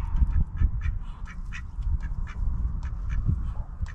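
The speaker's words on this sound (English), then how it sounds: "Hey, ducks, be quiet." Several ducks quack repeatedly and fairly close by in a farmyard, producing rapid irregular bursts of nasal calls over steady low background rumble, with no talking.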